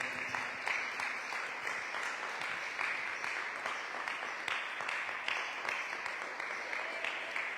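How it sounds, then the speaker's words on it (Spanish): A church congregation claps during a Spanish-language sermon, a sustained, even roar of many hands at moderate distance with scattered sharper claps, no speech on top. "Denle un aplauso al Señor."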